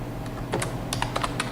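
Keys clatter on a computer keyboard while writing web development code, a short burst of about eight quick, close, crisp keystrokes in uneven rhythm with no talking.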